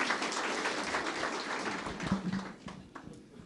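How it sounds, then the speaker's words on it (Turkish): Applause at the opening ceremony of a TV studio in Istanbul as a city mayor is invited to the stage; a moderate round of clapping that gradually thins out and fades. "şimdi de alkışlarınızla Ordu Büyükşehir Belediye Başkanımız Sayın Enver Yılmaz'ı buraya davet ediyorum"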